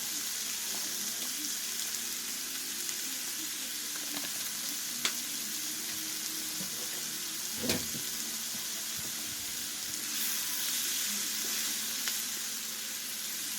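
Steady, faint hiss of steak fajitas seasoned with seasoning salt sizzling in a pan, continuous broadband frying noise with a couple of small clicks and a brief utensil knock midway, no talking.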